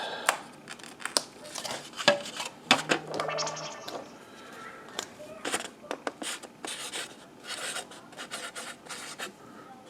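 Pen scratches out labels for old seed packets of Roma paste tomatoes, close-up bursts of quick scribbling strokes with short pauses, plus some light paper rustling and rubbing.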